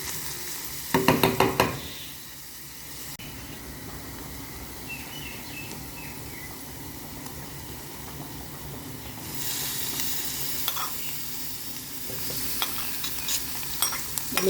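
Garlic sautés in a pan for goto, a Filipino rice porridge, a steady close sizzle with stirring scrapes and knocks against the pan, louder in bursts near the start and toward the end.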